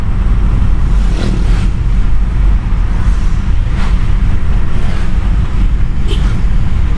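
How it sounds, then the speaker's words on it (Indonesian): Wind roaring through an open window of a moving Toyota Veloz, a loud, constant buffeting rush with occasional gusty swells throughout. "Dan suara angin juga sangat kerasa sekali."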